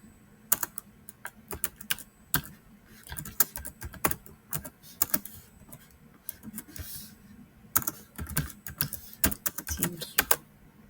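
Fingers typing an email on a computer keyboard, close and crisp, irregular bursts of clicking keystrokes separated by short pauses.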